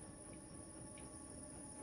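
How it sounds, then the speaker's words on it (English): Trains rumbling past in the background of the video game Inside, a faint, steady low drone with soft rhythmic rail noise and no talk. "Trains are going again in the background."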